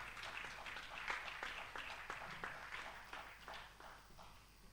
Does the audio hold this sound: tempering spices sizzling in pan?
no